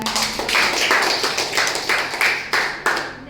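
A room full of people claps in applause after a classroom guidance session, a dense, steady clatter of many hands with rhythmic surges, loud and close, with no voices over it.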